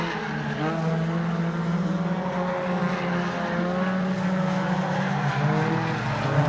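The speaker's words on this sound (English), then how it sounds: "out of the Joker lap comes Chisman now. That will drop him behind Chris Scott as they come over the line" Rallycross cars racing in a British Rallycross Swifts round, several engines droning and revving together at a steady distance, one continuous layered roar without speech.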